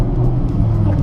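Lamborghini Gallardo LP560 V10 engine rumbles steadily in a deep, loud drone, heard close with a slight rise in pitch as it revs, no talk.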